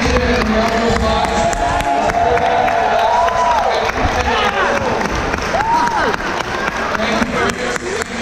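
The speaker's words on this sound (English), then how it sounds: "They deserve a huge standing ovation and a round of applause." Loud, continuous crowd noise of clapping and cheering fills a graduation-style awards gathering as the audience rises to applaud parents and family, with scattered shouts and whoops rising above the steady roar.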